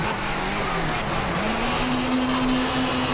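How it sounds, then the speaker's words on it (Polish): Rally car engine from the WRC 4 racing game on a Portugal stage, droning steadily and loudly throughout with pitch rising as it accelerates, plus faint tire noise. "Słuchajmy się brzmienie silników."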